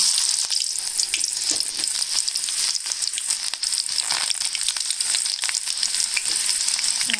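Chopped onions frying in a little hot oil with cumin seeds for a garlic-chili egg dish, a dense, continuous close crackle with rapid popping and no talking.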